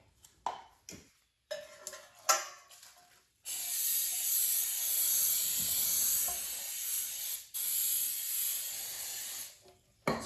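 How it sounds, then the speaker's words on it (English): Cooking spray hisses onto a baking pan being prepped for almond bread, a steady close-up spray lasting several seconds with a brief break before it resumes, after a few light handling knocks. "cooking spray to prep the pan and get it ready"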